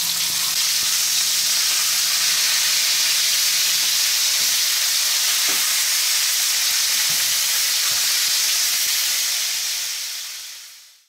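Veal pieces fry in very hot oil in a pan, a loud, dense, continuous sizzling hiss that holds steady and close for the whole stretch before fading out at the end, with no voices.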